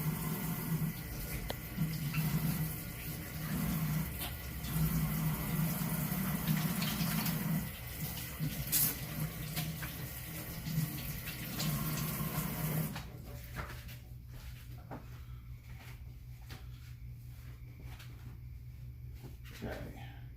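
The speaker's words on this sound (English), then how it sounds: "I'm gonna rinse my hands off here real quick," A kitchen faucet runs steadily as hands are rinsed during brisket prep, a close, continuous rushing splash with faint clatters that lasts about thirteen seconds, then cuts off into a quiet room with low background hum and no talking.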